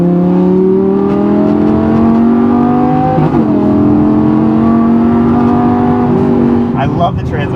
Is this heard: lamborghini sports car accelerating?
yes